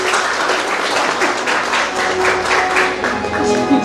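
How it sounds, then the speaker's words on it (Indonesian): Wedding ceremony crowd applause, many hands clapping steadily and fairly close, sustained for a few seconds. "Kita beri tepuk tangan untuk prosesi ini."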